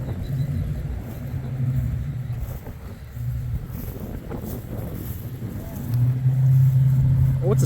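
The engine of a six-cylinder classic Tri-Five Chevrolet idles with a low steady rumble outdoors at a car show, mixed with wind noise, background chatter and passing sounds, and revs up louder near the end.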